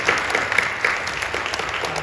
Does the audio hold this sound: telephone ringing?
no